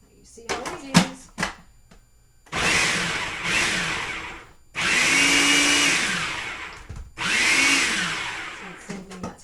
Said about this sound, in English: Oh, it's my food processor anyway.